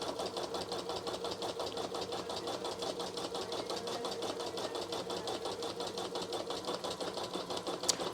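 A Janome Memory Craft 1000 embroidery machine stitches in a fast, even mechanical rhythm of rapid needle strokes, steady and close throughout.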